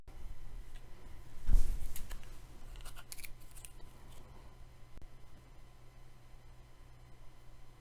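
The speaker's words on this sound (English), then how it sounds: "Cut your thread off." Scissors cut fly-tying thread at a vise while tying a black chironomid fly, one quick close snip rising briefly above a steady low background hiss.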